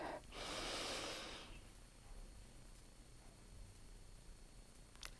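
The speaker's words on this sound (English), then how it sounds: "So nice deep breath in" A deep, loud inhale lasting about a second and a half during a guided breathing exercise in a class, followed by a quiet pause with faint room noise.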